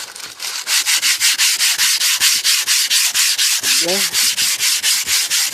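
Paint is sanded off the body of a 1988 Cadillac DeVille in fast, regular back-and-forth strokes, each a loud, close, gritty rasp repeating about four times a second, with a brief voice partway through.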